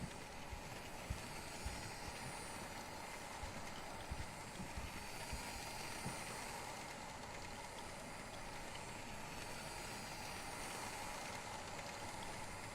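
Train running in the video game Life is Strange 2, a steady broadband rumble and hiss with wheel clatter that holds evenly throughout, no voices over it.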